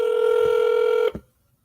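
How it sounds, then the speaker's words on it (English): Telephone tones sound on a call to a county sheriff's office: a single steady tone holds for about a second, then cuts off abruptly into near silence, heard alone without talk. "Can you guys hear the phone?"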